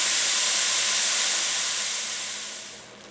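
Ground beef cooking in a pan until no longer pink gives a loud, steady, close sizzling hiss that holds evenly and then fades slightly at the end.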